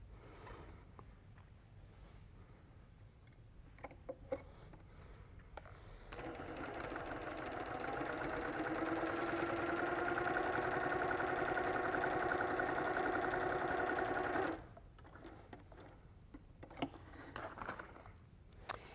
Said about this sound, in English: we're going to sew the blue half square triangle to the 1/4 square triangle unit